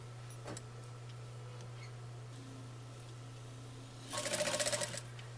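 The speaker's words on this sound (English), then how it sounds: "you start sewing the other direction in the center going out from each side" A sewing machine gives one short, close burst of rapid stitching near the end while quilting layers of reversible fabric, after a quiet stretch with a steady background hum.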